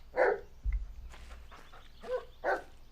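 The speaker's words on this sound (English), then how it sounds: "Is this dog just gonna fucking bark constantly?" Dog barking in the Blair Witch video game, several sharp separate barks spaced over a few seconds, fairly close, with a low thump between them and no talk.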